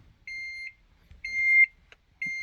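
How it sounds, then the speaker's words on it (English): Door-open warning chime in an Acura Integra: three evenly spaced electronic beeps, each under a second long, clear and close in a quiet cabin with only faint background rustle. "So right now it's beeping because this door is open and it's not actuating this little switch in here."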